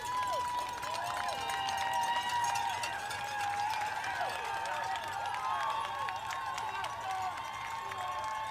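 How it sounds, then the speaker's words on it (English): A crowd roars and cheers along the finish stretch of the Ottawa marathon, a steady, sustained wash of noise with scattered clapping, continuing throughout under a commentator's voice. "You can just hear the roar of the crowd"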